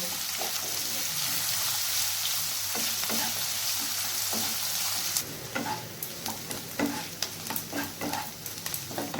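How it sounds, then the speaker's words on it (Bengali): Chopped onions frying in a pan for chicken kosha, a steady loud sizzle for the first half, then stirring with scattered scrapes and clicks over a softer hiss. "আমি এরপর পেঁয়াজ কুচিটাকে হালকা লাল লাল করে ভেজে নেব।"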